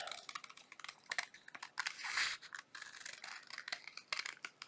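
Scissors snipping through thin tracing paper at close range, a run of short crisp cuts with papery scratching and rustle between them, no voices.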